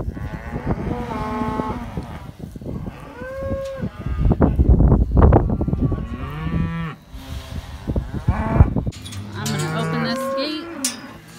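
Cows and their calves moo repeatedly in a barn during weaning, loud overlapping calls of varying pitch, some deep and drawn out, others higher and shorter, with barn clatter between them.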